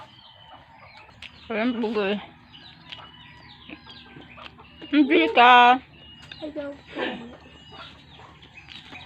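Chickens cluck in short bursts, a couple of loud close calls among quieter ones, while people talk nearby.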